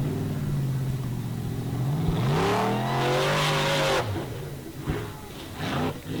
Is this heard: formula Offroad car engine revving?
yes